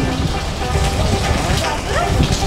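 Heavy rain falls steadily outside a university corridor at an agriculture campus, a dense, even wash of noise throughout with a voice talking over it.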